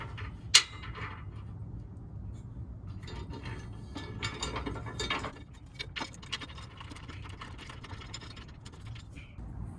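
A ratchet tightens a washer and nut on a 3rd Gen Tacoma skid plate, with one sharp metallic clink followed by quick bursts of ratcheting clicks and scattered handling sounds.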